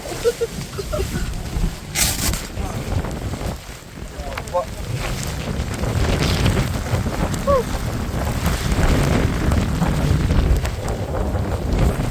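Strong wind at a Coorg viewpoint buffets the microphone in a continuous low roar, with gusts swelling throughout; a voice speaks briefly under the noise.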